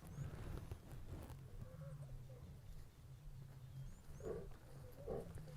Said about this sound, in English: Hearing those roars.